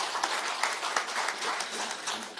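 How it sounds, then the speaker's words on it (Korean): A political rally crowd gives a short burst of applause, dense scattered clapping at a moderate distance lasting a couple of seconds. "다시 한번 박수 한번 부탁드리겠습니다"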